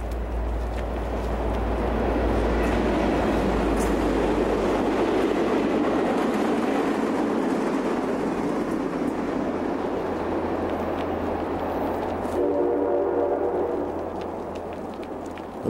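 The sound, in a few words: push-pull commuter train passing to Washington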